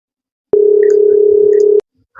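A single steady electronic telephone tone sounds for a little over a second, loud and close, then cuts off abruptly into quiet.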